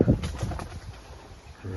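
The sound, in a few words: pigeons cooing in garden trees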